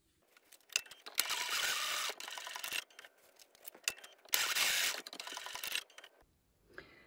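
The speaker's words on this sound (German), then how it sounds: "Gehe damit unter die Nähmaschine und schließe 1 cm vom Rand entfernt jeweils hier die Außenkanten." A sewing machine stitches the outer edges of a fabric pouch close by in two sustained whirring runs, separated and followed by sharp mechanical clicks and ticks.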